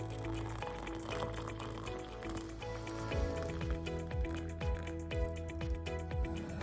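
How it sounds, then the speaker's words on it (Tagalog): Hot boiled water is poured into tea, giving a steady gurgling, splashing fill with bubbly drips that rises in pitch as the vessel fills, close and fairly loud. "So, ilalagay ko na po ang mainit na tubig"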